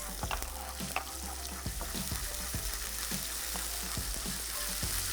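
Ginger and garlic fry in a pan with a steady, close sizzle, broken by regular scraping stirs of a utensil at roughly half-second intervals; no voices.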